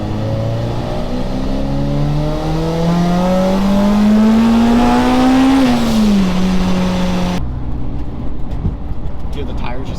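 Supercharged 1990 Acura Integra DA9 accelerating hard from inside, a loud engine whine climbing steadily in pitch through the gears before an abrupt drop, with road and tire noise throughout and occasional voices underneath.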